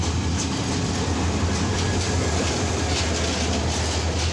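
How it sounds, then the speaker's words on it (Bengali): An intercity passenger train rolls past close by at a Bangladeshi railway junction, a loud steady rumble with rhythmic clickety-clack from the wheels over the rail joints and no voices. "চলে আসছে ইন্টারসিটি আন্তর্নগর ট্রেনটি"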